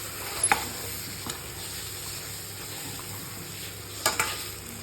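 Eggplant sautés in oil for a kootu, with a faint steady sizzle and a few light clinks of a spoon stirring against the pan, alone and without talk.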